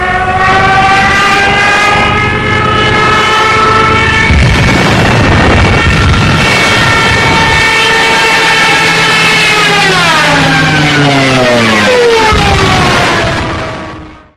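A wailing Stuka dive bomber siren, the Jericho Trumpet, screams loudly and continuously for about fourteen seconds, its rising and falling harmonic tones sliding downward near the end, with booming rumble beneath in the middle.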